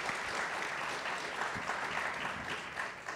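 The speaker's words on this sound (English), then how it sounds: "Let's have a quick round of applause for our great guests." Sustained applause from an audience at a business-school panel event, a dense steady wash of many hands clapping throughout with no pauses.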